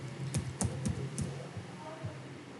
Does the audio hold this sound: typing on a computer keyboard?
yes